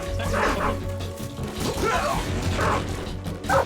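Dog barks in Metal Gear Solid 3: Snake Eater, several short yelping bursts spread across a busy game soundscape with mechanical clatter and a voice briefly talking over it.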